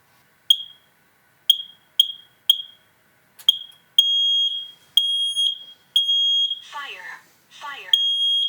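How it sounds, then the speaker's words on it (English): A Ring smoke alarm under test gives sharp piercing chirps, first a string of short evenly spaced beeps, then longer loud tones, with a voice speaking between the final blasts. "Now I'm going to step down because this is loud and test the smoke alarm."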